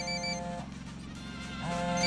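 A telephone ringing at a cartel base in Ghost Recon Wildlands trills in two short bursts with a pause between them. It sits over a constant low background drone and no one speaks.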